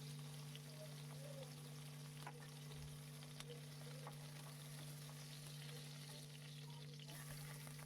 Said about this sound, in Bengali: ওই তেলেই ভেজে নিচ্ছি